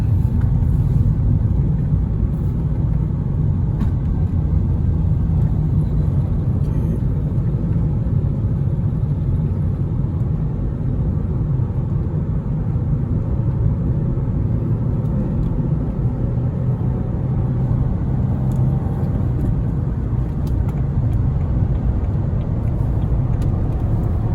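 Peugeot 406 V6 with a manual gearbox cruising on a freeway, a steady loud low engine and road rumble heard from inside the cabin, unbroken throughout with no talk.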